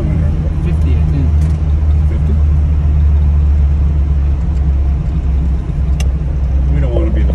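A 1970 Lancia Fulvia 1.3S Sport Zagato drives along a road, its steady low engine rumble and road noise filling the cabin continuously, with people talking faintly over it.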